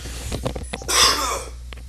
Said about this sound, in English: I have to fucking cough my brains out to clear my throat